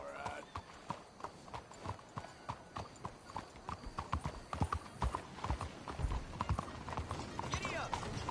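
Horse hooves in Red Dead Redemption 2 make a brisk, regular clip-clop that speeds up and grows louder toward the end, with a snort or neigh and some game speech mixed in.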